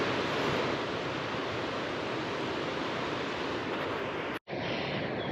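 Wind rising outdoors in the Arctic near Kilpisjärvi rushes as a loud, steady broadband roar that buffets the microphone, with a brief dropout near the end.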